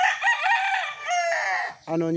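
A gamefowl rooster on a breeding farm crows loudly and close by, one long drawn-out call that ends with a brief harsher note.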